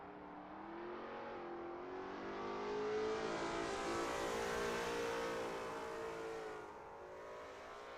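Lola T70 MkII Spyder race car lapping Sebring International Raceway in a racing game, its engine droning steadily, swelling as revs climb, then dropping back, with no voices.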